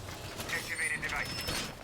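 Objective device being planted in the tactical shooter Rainbow Six Siege: a short mechanical whirring and ratcheting with a warbling electronic tone, under a voice speaking over it.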